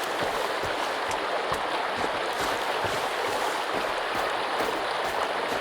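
Sled sliding down a river in the video game Sons of the Forest, a steady rushing wash of water and wind noise with scattered knocks and bumps throughout, loud and continuous with no talk.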